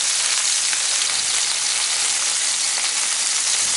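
Homemade Italian sausages fry in plenty of grease in a pan, a dense, even crackling sizzle that holds steady and close with no talking over it.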